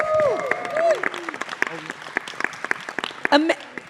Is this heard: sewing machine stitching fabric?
no